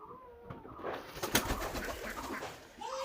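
Local Giribaj pigeons in Rajshahi coo in soft, repeated throaty calls close by, with a faint flutter of activity and no talk.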